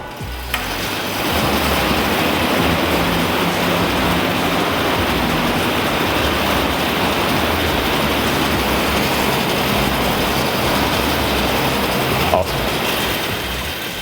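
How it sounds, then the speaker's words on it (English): Assault bike fan roaring steadily and loudly as a rider opens with a short aggressive sprint and then settles into a pace, a continuous broadband whoosh holding for over ten seconds. "Blair's gonna start the bike with a quick aggressive sprint for 5 to 6 seconds and then settle into a pace."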